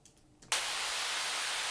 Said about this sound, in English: we have added a noise drop,